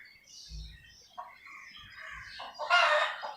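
A newly bought white rooster and a group of hens cluck and call nearby, with low thumps early on and a louder rising crow-like call near the end.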